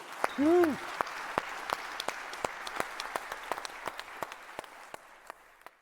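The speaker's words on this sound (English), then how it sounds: "I would say a big applause for the 3 here" Audience at a circular design summit panel discussion applauding the panelists, crisp individual claps at a steady pace that gradually thin and soften, with a brief voice near the start.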